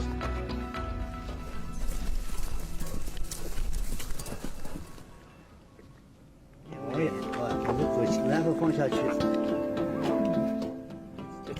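Horses walk along with hooves clip-clopping steadily, fairly close, through a continuous outdoor wash of sound, with a brief quieter gap midway.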